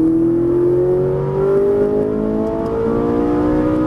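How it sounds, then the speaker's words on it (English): A Ferrari 458 Italia accelerates hard out of a turn on a Las Vegas track, its engine note climbing steadily in pitch as it revs up, loud and close throughout, with no talk over it. "Squeeze the throttle and accelerate all the way out."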